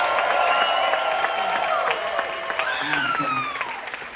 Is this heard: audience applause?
yes